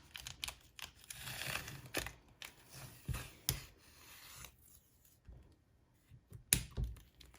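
Adhesive vinyl being peeled off a sign by hand, a series of quiet close crinkling and tearing sounds with irregular sharp clicks and pauses.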